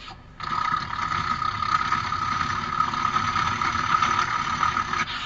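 At a school festival mimicry performance, a voice imitates a solar-powered boat engine with a continuous, close, even drone that starts abruptly and holds steady for about five seconds without speech.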